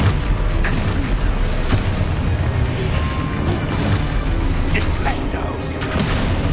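Fiery Confringo spell blasts in the Hogwarts Legacy video game: dense, continuous booming and crashing impacts with sharp bursts around the second and fifth seconds, loud and layered over game effects.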